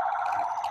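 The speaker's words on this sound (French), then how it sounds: "On aime bien les alarmes aussi." A car alarm or siren sounding at the Le Mans 2025 event, a loud steady electronic tone with wavering pitch that holds for under a second with no pause.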